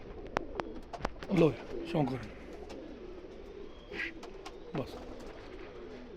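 Pigeons coo in soft, rolling calls near at hand, several phrases repeating over a few seconds among sharp clicks and knocks, while someone speaks at the start.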